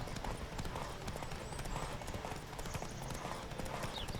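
Hooves of Roach, the horse in The Witcher 3: Wild Hunt, clip-clop in a steady trotting rhythm, fairly faint and continuous under ambient game sound.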